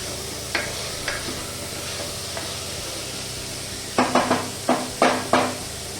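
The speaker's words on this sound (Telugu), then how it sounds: "దీంట్లోనే కందిపప్పు లైట్గా వేపుతాం" Soaked toor dal stirred lightly with onion in a pan, a steady soft sizzle with sparse spoon scrapes early and a quick cluster of louder stirring knocks near the end, no voices.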